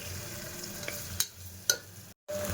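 A pan sizzles steadily with onions, green chillies and tomatoes frying, broken by a couple of sharp scraping stirs and a brief cut to silence.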